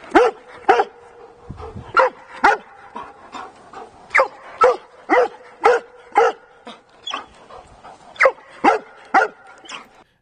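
Close, loud barking from a service dog fixated on a thrown ball, repeated sharp barks in uneven bursts with brief pauses and some panting between them.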